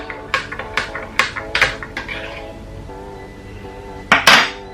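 A spoon stirs a ginger drink in a cup, giving a quick series of bright clinks against the sides, followed by a pause and then a louder double clink near the end.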